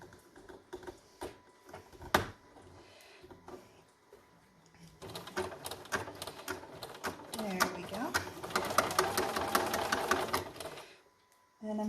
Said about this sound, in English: I'm just going to move my needle just slightly so it goes ahead and sews.